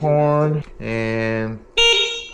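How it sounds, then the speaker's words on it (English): A loud electronic horn on an Onyx RCR electric motorbike blares in three short blasts, the last one higher pitched and piercing. "horn is loud, very loud."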